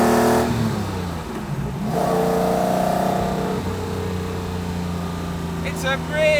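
A 1960s Le Mans Jaguar race car with a 6.1 litre V12 roars loudly and close as it accelerates down a straight, its pitch climbing through gear changes while a voice talks over the engine.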